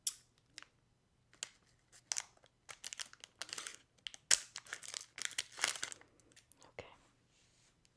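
Candy or biscuit packaging crinkling and being cut open with scissors, close-up bursts of crisp plastic rustling and snipping in irregular clusters, with a soft voice briefly speaking.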